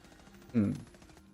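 A single short burst of enemy gunfire in The Division Resurgence, a faint, muffled crack-like thump lasting under a second amid quiet game ambience, with no talking over it.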